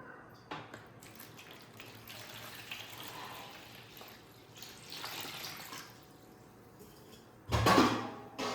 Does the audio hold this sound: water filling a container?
yes